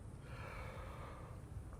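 A person yawning: a faint, drawn-out breathy exhale heard alone, without speech, lasting about two seconds.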